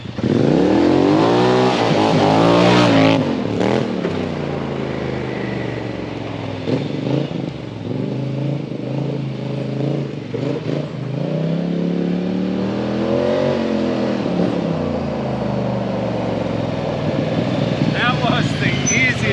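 A Polaris vehicle fitted with a clutch kit and aftermarket exhaust revs hard and accelerates at the start, then its engine note rises and falls under ongoing conversation.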